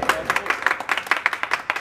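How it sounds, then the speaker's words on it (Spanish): A small group of family members claps for the fathers at a Father's Day mariachi serenade, quick uneven handclaps close by over a couple of seconds, with a voice faintly underneath. "Un aplauso que se escuche."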